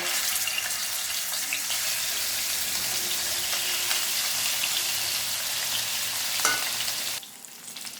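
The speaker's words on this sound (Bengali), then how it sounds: "এবার আমি খয়রা মাছগুলোকে ভেজে নেব।" Khaira fish fry in hot oil with a steady, loud sizzle and crackle that fills the kitchen, then drops off abruptly near the end as if the heat is lowered or the pan moved.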